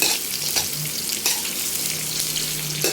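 Sayote, carrots and broccoli frying in a hot pan, a steady bright sizzle with stirring scrapes and occasional louder spatters, close and continuous with no talking.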